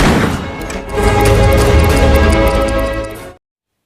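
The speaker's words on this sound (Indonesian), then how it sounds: "Atreya yang marah pada Dokter Siva meluapkan amarahnya dengan menembak Dokter Siva." Gunfire in an Indian sci-fi action film, a loud dense burst of shots and booms lasting about three seconds before cutting to silence.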